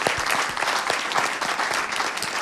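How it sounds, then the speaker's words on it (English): Conference audience at the Global Forum on Nicotine 2018 giving a round of applause at a session's close, brisk, steady clapping from a sizeable crowd, fairly quiet and continuous. "Give yourselves a big round of applause."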